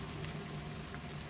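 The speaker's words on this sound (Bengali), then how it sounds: "আর এখন দেখো এগুলো ভাজছি।" Vegetables sizzle and fry in a pan, a dense, steady crackling hiss at close range that carries evenly through the whole stretch, with no voices.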